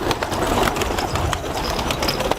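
Pigeons cooing inside a coop, several birds giving soft, steady overlapping coos close by, with light rustling and no talk.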